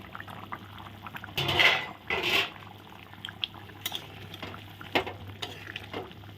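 A vegetarian dhoka curry bubbles in a pan as fried dhoka pieces go in, making quiet simmering and plopping sounds with a couple of louder splashing stirs and light pan clinks, heard close and without talk.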